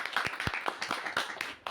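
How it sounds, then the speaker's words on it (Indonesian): A small group claps at a student organisation talk, a few quiet, scattered handclaps in an irregular patter, faint and close. "keren sekali ya, tepuk tangan dulu."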